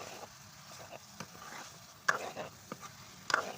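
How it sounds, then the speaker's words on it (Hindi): Fried okra being stirred through masala in a pan, soft scraping and gentle sizzle with a couple of sharper spoon knocks, quiet and close, no talking. "जो फ्राई हमने भिंडी की थी वो ऐड कर देंगे और इस मसाले के अंदर हमने इसको पकाना है"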